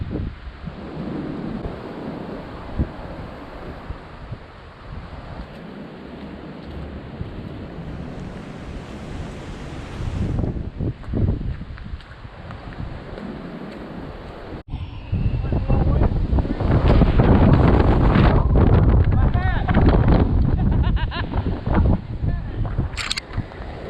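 Wind blowing across the open overlook at Linville Gorge: gusty roaring buffets against the microphone, moderate at first and then much louder and more turbulent in the second half.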